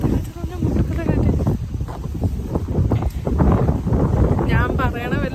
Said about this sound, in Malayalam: ഇവിടെ ഒടുക്കത്തെ കാറ്റാണ്.